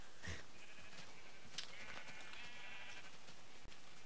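A sheep in the Minecraft video game bleats several times, with short, clear bleats standing alone over faint background noise and no talk.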